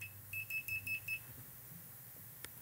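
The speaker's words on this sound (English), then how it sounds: "I've got my meter in continuity mode." A multimeter in continuity mode gives a quick run of about five short, high beeps, then one more lone beep a moment later. The beeps are faint against a quiet background.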